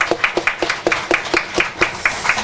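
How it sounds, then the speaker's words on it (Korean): A congregation at a church worship service claps together in a steady rhythmic beat, evenly spaced claps repeating at about three per second, fairly close and clear. "영광 받으신 하나님께 우리 한 번 더 영광과 감사의 박수 힘차게 올려드립니다."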